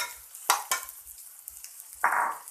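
Rice being stir-fried with nem (fermented pork) in a hot pan, with a few sharp scraping strokes of the spatula followed by a short burst of sizzling, close and fairly quiet, no talking.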